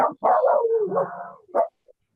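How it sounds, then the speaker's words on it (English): A dog gives a short run of barks and whimpering yips, close and fairly loud, ending in a brief trailing yelp with no talk over it. "even the dog is barking when he's listening to that"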